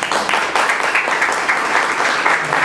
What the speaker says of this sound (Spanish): Recibimos a Stephen con un fuerte aplauso.